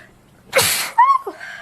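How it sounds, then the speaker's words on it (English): A single loud, close sneeze, a sharp breathy burst, followed by a short high voiced exhale or squeak as it ends. "I'm about to sneeze."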